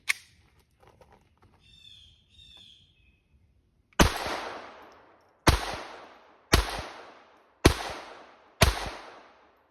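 Five sharp, loud shots from a Keltec P17 pistol firing CCI segmented hollow point subsonic rounds, spaced about a second apart, each with a short ringing decay, following a quiet stretch with faint birdsong.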